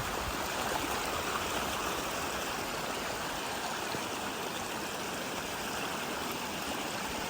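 Storm runoff rushes steadily into a freshly excavated pond through a 10-inch pipe, past banks sown with grass seed and straw, making a continuous, dense roar of flowing water that stays even and close throughout.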